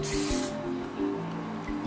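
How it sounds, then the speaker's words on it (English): Cooking oil sprayed from a can into bread pans: a loud, brief hiss of spray for about half a second, then quieter spattering and soft handling noises. "Now we're going to spray the inside of the pans with oil."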